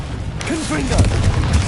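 A Confringo fire spell explodes in Hogwarts Legacy with a loud, close boom and crackling burst, while a voice shouts over the blast.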